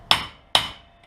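Two light, sharp hammer taps about half a second apart, ringing briefly, as a rear wheel bearing collar is seated on a 1987 Toyota 4Runner axle, with a faint third tick after.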